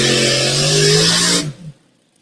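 A triple-engine big block Chevrolet pulling tractor at a tractor pull roars loudly at sustained high revs, then cuts off abruptly into near silence.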